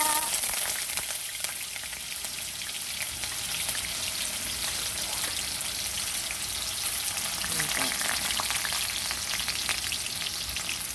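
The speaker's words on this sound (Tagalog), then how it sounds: "Iprito po muna natin ang tokwa. Oh my God. Tumatalsik po ang mantika." Tofu frying in spattering oil, a dense, continuous crackle and pop of sizzling fat that holds steady, with faint voice in the background.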